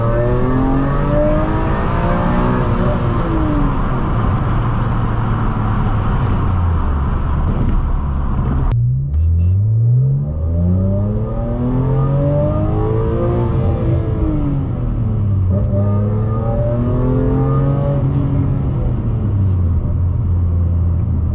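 A BMW E46 M3 CS with SMG gearbox driven hard: the engine revs climb in a loud rising drone, a quick shift cuts it, then it climbs and falls again through several gears, a continuous close rumble from inside the car.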